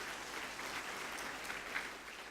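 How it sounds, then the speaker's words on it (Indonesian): Quiet, continuous applause from a gathered audience at an inspirational talk, a soft, even patter of many hands heard from a distance with little variation throughout. "Tepuk tangan."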